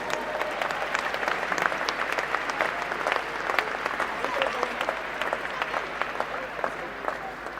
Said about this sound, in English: can we just have a round of applause for this whole tournament?